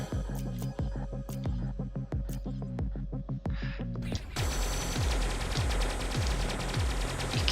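Piercing machine guns rattle in the space shooter game Stellar Interface, first as rapid evenly spaced shots with ringing tones, then a denser, louder continuous barrage of overlapping gunfire.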